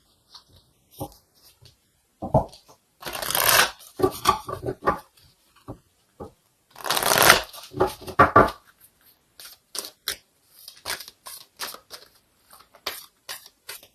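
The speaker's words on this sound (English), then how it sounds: "let's go ahead and get an oracle card here to confirm this" Oracle cards being shuffled by hand during a tarot reading, with several bursts of riffling and flicking card noise separated by quiet gaps, then scattered soft taps and slides of cards close by.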